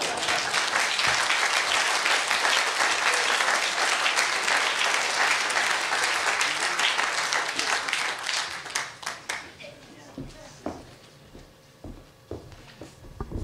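Audience applause at a storytelling slam, dense sustained clapping from a full room that thins out after about nine seconds into a few scattered, separate claps.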